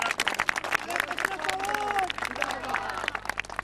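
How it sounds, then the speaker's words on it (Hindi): A crowd claps in a dense, steady patter of applause, with a voice calling out briefly partway through. "तालियां मारो"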